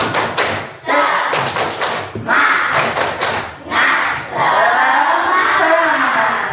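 A class of students claps in quick rhythmic bursts, mixed with loud chanting voices, several rounds of claps and shouts building to a cheer.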